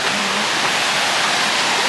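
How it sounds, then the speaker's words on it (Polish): Mountain waterfall on a forest stream near Szklarska Poręba, a steady broad rushing roar of falling, splashing water heard close and continuous, with no voices. "Tutaj chyba właśnie jest wodospad, tylko z góry nie specjalnie dużo widać."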